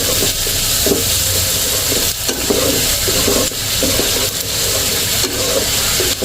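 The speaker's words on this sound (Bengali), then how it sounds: "এদিকে মাংসটাও আমি হালকা তেলের মধ্যে হালকা ভাজি করে নেব।" Meat sizzles and fries lightly in a little oil in a pan, a steady close hiss with faint stirring scrapes running throughout.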